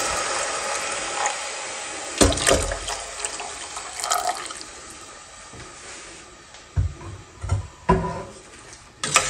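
Jaggery water poured into a cooking pot for rice, a steady splashing liquid stream with several louder gushes and clinks toward the end, close by with no talk.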